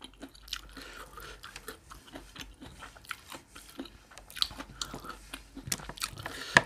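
Close, crisp chewing and crunching of spicy horseshoe crab egg salad, with irregular wet bites and squishy mouth sounds repeating steadily at low volume without talk.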